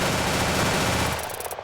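Rapid automatic gunfire from a high-spread weapon in the shooter Aneurism IV, a loud, dense continuous burst that cuts off abruptly near the end.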